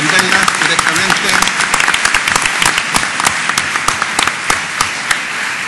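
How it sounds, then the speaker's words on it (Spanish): Seminar audience applauding the panelists and professor after a question session, a sustained round of clapping in a hall that thins toward the end, with some voices mixed in. "pedirle un aplauso a nuestros panelistas por su pregunta, al profesor por responderla directamente."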